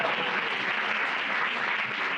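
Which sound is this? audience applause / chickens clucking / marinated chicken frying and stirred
audience applause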